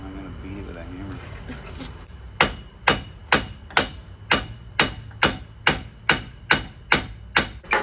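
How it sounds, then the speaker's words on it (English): A hammer strikes the front wheel hub assembly of a 2010 Chevy Impala LTZ during wheel bearing replacement. About a dozen loud, sharp metallic blows land at a steady, even rhythm, and a voice is heard briefly before they start. "I'm gonna beat it with a hammer"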